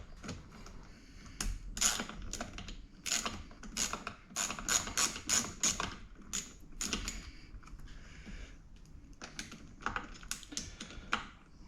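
A mirror bolt on a Can-Am Outlander is tightened with a ratchet, giving bursts of quick, close clicking that stop and start in short runs, quiet and with no talking.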